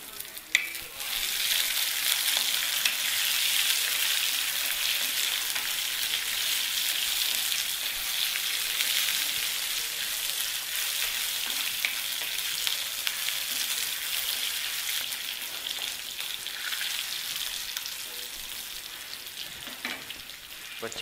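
Green chillies fry in hot oil for wheat rava upma, making a continuous bright crackling sizzle that stays steady and close throughout, with only faint occasional stirring and no talk.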